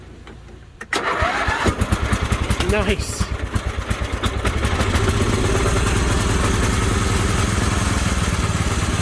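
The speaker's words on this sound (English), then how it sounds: "That's a quality old tractor right there" An old tractor engine cranks and catches, then settles into a loud, steady, chugging run close by; a person briefly exclaims as it starts.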